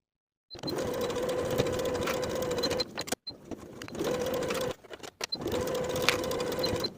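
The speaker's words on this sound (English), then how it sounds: "Pin in place, sew at 1/4 inch and press the seams toward the tabs." Sewing machine stitching a quarter-inch seam in a bag lining: three steady runs of rapid mechanical whirring, each about two seconds long, separated by brief pauses and faint handling clicks.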